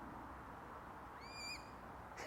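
A swan gives one short, thin, rising call, faint and somewhat distant over steady outdoor background noise.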